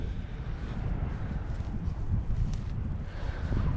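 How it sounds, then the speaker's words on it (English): Gusty wind on a Scottish clifftop by a ruined castle buffets the microphone with a low rumbling roar that rises and falls, with no speech. "It's really, really windy at this point."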